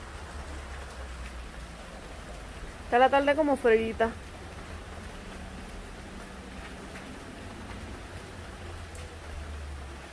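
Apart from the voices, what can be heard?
rain falling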